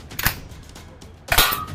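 Q3A Plus Thompson M811 toy gun fired twice at close range, each shot a sharp snapping crack with a short mechanical rattle, about a second apart.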